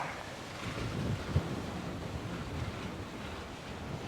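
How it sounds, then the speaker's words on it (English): Strong wind gusting across an island disc golf course, a steady rushing buffet on the microphone with no voices, loud and continuous for a few seconds. "That's how windy it is."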